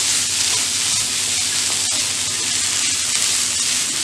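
Marinated mussels coated in chilli and turmeric sizzle loudly and steadily in a hot pan for a Kerala thoran, a dense close frying hiss throughout with faint stirring underneath and no voices.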